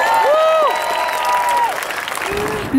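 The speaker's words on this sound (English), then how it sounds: "Give ourselves a round of applause!" Crowd at an outdoor rally to save a cross and war memorial applauds in a dense, steady burst, with tonal whistles or cheers riding over the clapping and a voice breaking in near the end.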